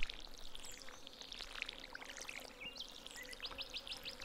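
A watering can pours over crops in the farming game Stardew Valley, a soft continuous splashing stream with light chirps and short bright game tones layered on top, quiet and without speech.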